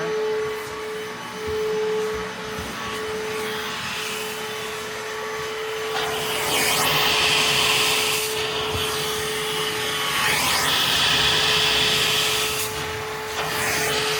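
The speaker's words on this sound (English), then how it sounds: "That's just the vacuum over here." A vacuum cleaner runs steadily with a constant motor whine, its pitch and hiss surging louder partway through as it sweeps across a surface.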